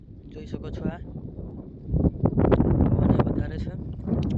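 Strong wind gusts across a rain-flooded groundnut field, buffeting the microphone with rough, loud rumbling that builds in the second half while someone talks over it.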